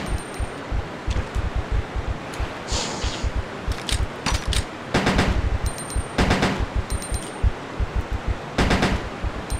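Rapid, regular gunfire rings out loud and close in Resident Evil 2 as spiders are shot, a steady stream of sharp shots with a few brief bursts of higher clatter between them.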